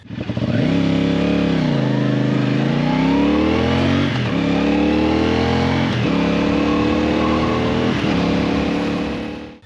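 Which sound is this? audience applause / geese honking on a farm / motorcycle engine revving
motorcycle engine revving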